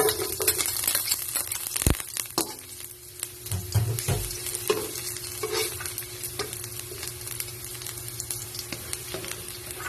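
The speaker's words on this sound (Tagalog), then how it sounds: "naglagay na po tayo ng oil sa ating cooking pan. Pwede na po nating ilagay ang ating bawang." Minced garlic frying in hot oil in a cooking pan for chop suey, a steady close crackling sizzle with occasional utensil clinks and stirring, no talking.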